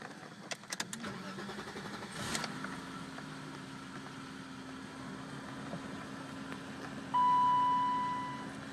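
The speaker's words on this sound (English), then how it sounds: "I'm going to start the car again." A BMW E34 car engine starts up with a brief crank and catch, then settles into a steady idle. Near the end a constant high tone cuts in over the running engine.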